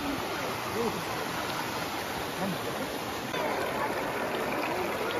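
Waterfall at Lagunas de San Ramón in the hills of Santiago, Chile, a steady broadband rush of falling water that holds at an even, close level throughout, with a few faint voices or birds showing briefly above it.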